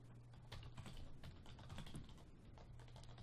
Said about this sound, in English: Sorry, I was typing in the chat real quick.